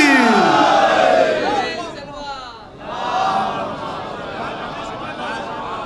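A large crowd roars a loud, unified religious slogan chant at a Shia majlis gathering, voices swelling together, dipping briefly, then rising again in a sustained collective shout.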